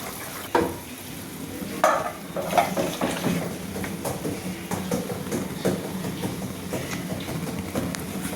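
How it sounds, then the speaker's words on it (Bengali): Red fish curry with potato and cauliflower simmers and bubbles in a pan, producing a steady close sizzle broken by a few sharp utensil knocks and scrapes against the pan. "এই টকবক টকবক করে ঝোল ফুটছে, লাল লাল ঝোল।"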